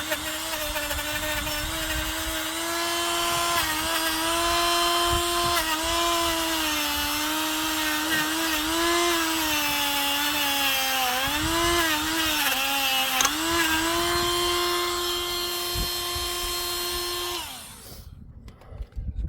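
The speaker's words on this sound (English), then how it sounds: "rechargeable Pro Work handy tool. It's got a little wire brush on the end, and we can adjust the speed." A rechargeable Pro Work handheld tool with a small wire brush spins against brake calipers, giving a sustained whirring whine whose pitch wavers under load for about seventeen seconds before it winds down and stops.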